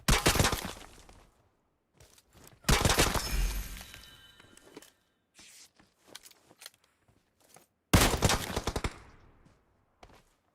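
Gunfire in the mobile battle royale game PUBG Mobile: three loud bursts of rapid shots with sharp cracking impacts, separated by quieter gaps holding faint scattered pops, with no talk.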